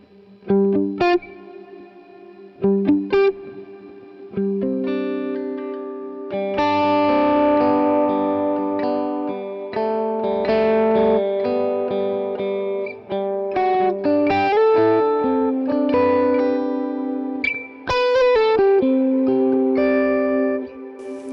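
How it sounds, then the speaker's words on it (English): Electric guitar through a Quad Cortex playing picked notes and chords drenched in reverb, with lingering washy tails and some chorus-like shimmer, loud and continuous. "So if I bypass this, you'll hear the reverb."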